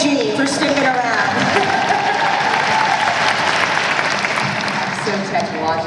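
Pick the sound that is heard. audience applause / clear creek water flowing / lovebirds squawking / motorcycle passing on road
audience applause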